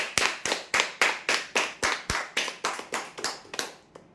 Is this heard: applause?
yes